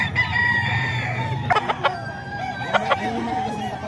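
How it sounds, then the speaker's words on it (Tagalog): Rooster and chickens at a poultry sale in Bocaue, a close crow ringing out over steady clucking, with sharp calls breaking through midway. "Manok ni Kuya Vic to."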